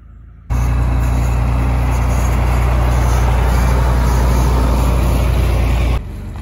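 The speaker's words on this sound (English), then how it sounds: "I hear the tractor. You hear the tractor coming, Bonnie." A farm tractor approaches with a loud, steady engine rumble and droning hum that starts abruptly and holds constant before cutting back to a quieter background.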